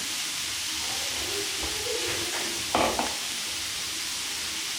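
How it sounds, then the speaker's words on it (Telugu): Paneer frying in an already oiled pan for paneer biryani, a steady soft sizzle and hiss with a brief louder stirring scrape near the end, fairly quiet, no talk. "పన్నీర్ అంతా ఇలా ఫ్రై చేసుకోండి."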